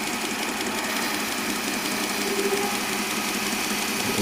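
A cutter vibrating heavily as it takes a deep bite into a brass contrate wheel for a carriage clock: a steady, dense mechanical drone and chatter, continuous and fairly loud throughout with no speech.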